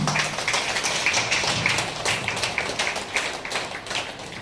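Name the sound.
audience clapping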